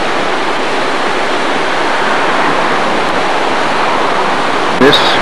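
The Merced River rushes by close and loud, a dense, steady roar of water that holds constant throughout, with a brief faint knock near the end.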